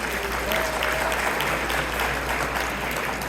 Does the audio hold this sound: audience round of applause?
yes